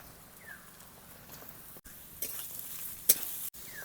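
Carrots tossed and stir-fried in a pan with fried onions for homemade chicken pasta, giving a soft continuous sizzle with a few scraping stirs and one sharp utensil knock, close and fairly quiet.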